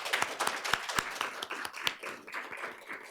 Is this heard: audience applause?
yes